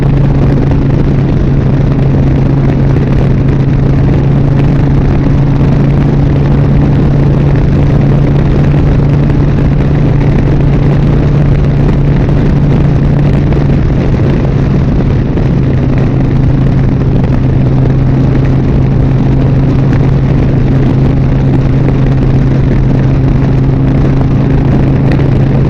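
A motorcycle engine drones steadily while riding on the road, a loud constant hum with a fixed low tone and rushing wind, unbroken for the whole stretch with no talk.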